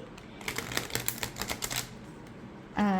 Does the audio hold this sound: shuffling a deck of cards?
yes